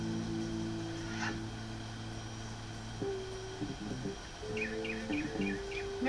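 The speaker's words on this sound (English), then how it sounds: "the squirrel has upset the mockingbird. And so the mockingbird is trying to chase the squirrel away from its nest" A mockingbird chasing a squirrel from its nest gives repeated sharp chirps and short call bursts, heard over a steady droning hum.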